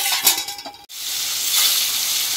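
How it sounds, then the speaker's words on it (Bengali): Silver carp fish pieces frying in a pan in a village kitchen, opening with clattering, bubbly spatters, then a brief break before a steady, loud hiss of hot oil. "বাকি মাছগুলো ভেজে নিচ্ছি।"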